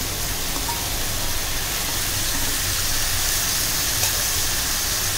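Tomato and curry leaves sizzle in hot oil for a tempering, a dense, steady hiss of frying that stays loud and even throughout.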